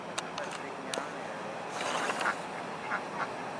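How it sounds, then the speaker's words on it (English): Ducklings give a few soft, scattered quacks at a distance outdoors, mixed with rustling and faint background noise. "Hey, little ducklings."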